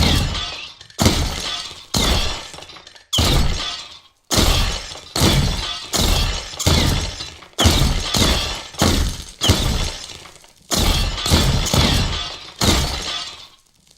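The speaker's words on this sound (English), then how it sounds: "Both are instantly breaking glasses" Repeated glass shattering caused by gunshots in the video game Avenge, about a dozen loud, sharp crashes in a steady rhythm, each bursting suddenly and tinkling away into brief silence.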